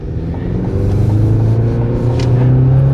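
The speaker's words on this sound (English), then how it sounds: "That big Turbo 4 moving us along." A GMC Canyon AT4X pickup's turbocharged four-cylinder engine drones steadily from inside the cab while cruising on a mountain road, a loud low rumble with a rising tone as it pulls.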